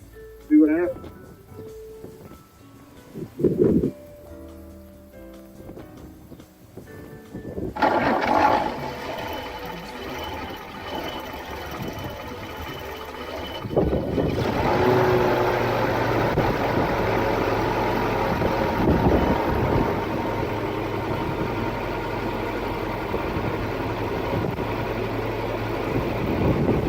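After a fuel line repair, a Jeep engine cranks and catches, then settles into a steady running rumble that grows louder and holds, with a person talking over it at the start.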